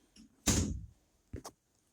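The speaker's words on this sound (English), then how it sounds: "Shut my door, please. Shut my door." A door being shut with a single solid thump, followed about a second later by a smaller knock or rattle, with no talk over it.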